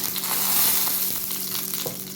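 A dried red chili crackles in hot ghee in a tempering pan, a dense, even frying sizzle heard up close and alone, with faint soft stirring touches.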